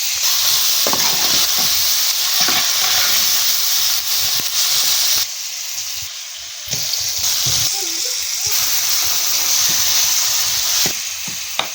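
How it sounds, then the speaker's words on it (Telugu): Curry in a pan sizzles and fries steadily, loud and close, with scraping stirs after salt goes in; the hiss runs continuously with brief dips. "సరిపోయేంత ఉప్పు వేసుకొని కలుపుకుంటున్నా"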